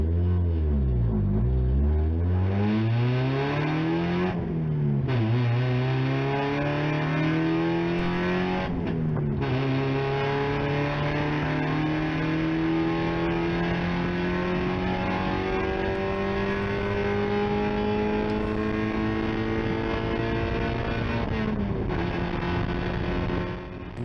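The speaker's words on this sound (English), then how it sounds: "It sounds like the car's running good now." An endurance race car engine at a track howls loud and steady through repeated gear changes, its pitch climbing under hard acceleration and dropping briefly at each shift, with no voices over it.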